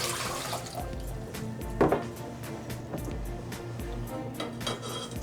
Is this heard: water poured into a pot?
yes